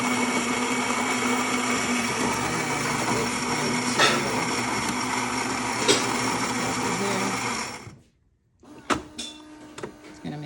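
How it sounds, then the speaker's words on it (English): A Philips automatic coffee machine grinds coffee beans with a loud, steady, close grinding whir for about eight seconds, then stops abruptly, followed by a few clicks and clatters. "I'm just gonna grind my beans."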